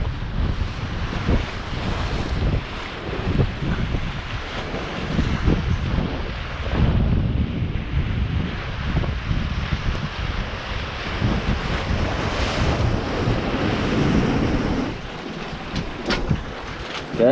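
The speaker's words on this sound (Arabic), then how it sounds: "كاين البحر ود الرئيس." Sea waves wash onto the shore near Laayoune with steady wind buffeting the microphone, a continuous loud, rumbling surf roar with gusty swells throughout and no talking.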